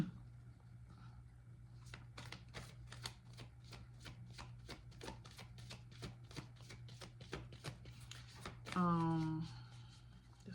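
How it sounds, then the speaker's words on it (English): Rapid, evenly spaced riffling clicks of tarot cards being shuffled, close and quiet over a low hum, ending as a voice speaks briefly. "want to shuffle"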